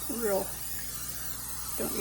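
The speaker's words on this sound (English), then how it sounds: "I want to spray my 9x13 pan lightly" Cooking spray hisses steadily onto a 9x13 baking pan for about a second and a half, a soft continuous spray close by, with someone talking just before and after.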